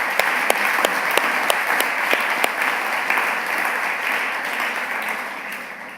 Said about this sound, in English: Round of applause for all of those nominees, please.